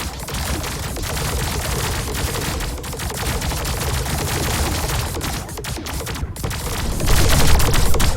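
Spaceships trade dense, continuous weapon fire in a Star Drive 2 space battle, a loud unbroken roar of rapid blasts and impacts that swells toward the end, with no talking.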